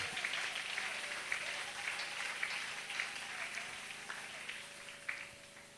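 A church congregation applauding to acclaim the Lord during a worship service, a faint, distant patter of many hands clapping that swells and eases in loose waves.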